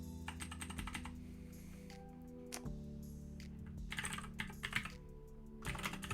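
Rapid typing on a computer keyboard, bursts of close, crisp key clicks with brief pauses between runs over a quiet steady background hum.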